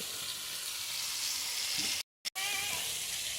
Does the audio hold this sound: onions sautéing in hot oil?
yes